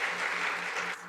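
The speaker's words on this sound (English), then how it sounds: "I just wanted to see if we can offer a big round of applause to all the teams" An audience applauds the teams at a city mayor's innovation pitch competition, a brief, steady patter of clapping from a crowd, moderately loud and fading at the end.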